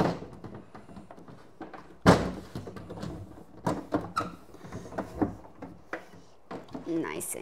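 A refrigerator crisper drawer is slid back into place with a sharp thunk, followed by plastic clatter, squeaks and knocks as it settles, close up in a kitchen.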